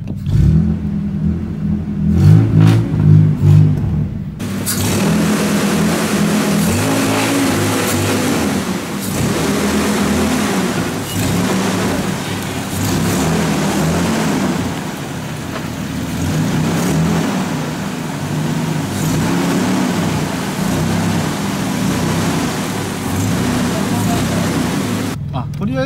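An accident-damaged car's engine idles steadily after being restarted, a loud continuous low rumble that follows a few seconds of sound at the start and runs on evenly to the end.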